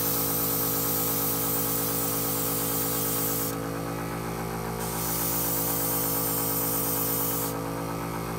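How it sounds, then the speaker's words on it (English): Airbrush spraying thinner during a deep cleaning, powered by an air compressor: a loud, steady hissing spray with a constant mechanical hum beneath, briefly dipping in brightness twice as the flow changes. "we're going to spray it till it comes clean."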